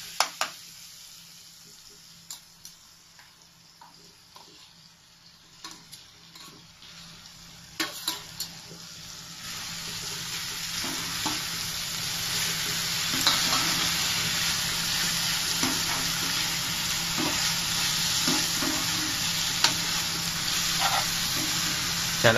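Fried salted dry fish pieces drop into a tomato and onion curry, starting with scattered clinks and stirring, then a steady, rising sizzle with intermittent scraping. No one talks.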